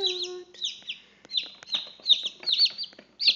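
Newly hatched Brahma chicks peep in a string of shrill, rising chirps, close and fairly loud, coming in irregular bursts with short gaps and no talking.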